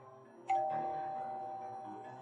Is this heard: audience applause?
no